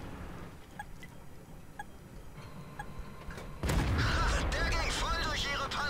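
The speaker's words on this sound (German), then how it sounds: "So, schön in die untere Wanne geschossen." A World of Tanks tank cannon fires with a sudden loud boom that rolls into a sustained rumble of battle noise, after quieter ticking game sounds, with someone talking throughout.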